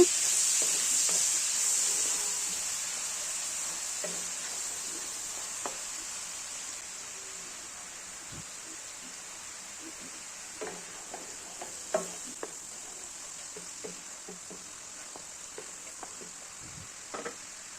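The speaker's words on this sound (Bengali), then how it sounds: "এবারে এতে দিয়ে দিচ্ছি হাফ কাপ পরিমাণে পেঁয়াজ বাটা একটু নেড়ে নিচ্ছি" Onion paste fries in a pan over rendered fat, a soft low sizzle and hiss with scattered quiet clicks and scrapes from occasional stirring.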